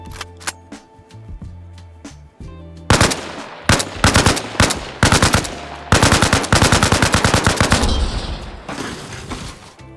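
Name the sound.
AK rifle gunfire at helicopter rotor in a video game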